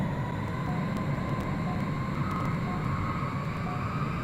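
Airplane engine in a flight game, a steady loud drone with a faint periodic ticking, continuous and close, no voices.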